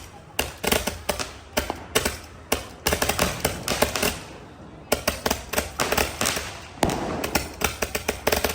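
Diwali firecrackers burst in rapid loud crackling volleys outdoors at a family celebration, sharp bangs piling into dense chains with brief pauses between bursts.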